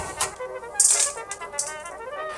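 A knife taps quickly and unevenly on a cutting board, finely chopping well-dried bacon, light clicking chops in rapid bursts, close up.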